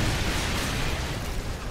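A heavy, roaring artillery strike explosion in Call of Duty: Modern Warfare 2 fills the whole moment, loud and broadband, like the tail of a big explosion.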